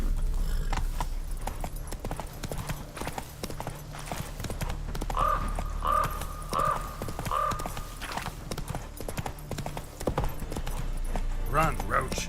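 In the video game Witcher 3, a horse gallops with rhythmic clip-clop hoofbeats throughout, with a brief whinny midway, while a voice speaks over it.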